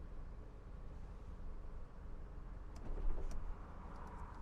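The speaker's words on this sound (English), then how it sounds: "Let's do the sunroof." The electric sunroof motor of a 1991 Mercedes-Benz 420 SEL W126 runs with a low steady whir inside the cabin, ending in a couple of faint clicks and a soft thunk.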